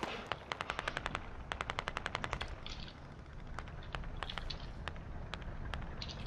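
Automatic machine gun fire in the military shooter game Squad: a rapid run of evenly spaced shots, a brief gap, another long burst, then scattered single shots over a steady battlefield rumble, with no talking.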